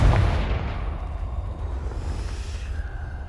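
Confringo spell blast in the Hogwarts Legacy video game, a single heavy booming explosion at the start that rumbles and slowly fades over about three seconds.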